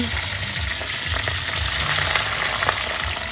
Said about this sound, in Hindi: और इस दुकान में अभी हम लोग 20 पीस चिंगड़ी फ्राई करवा रहे हैं।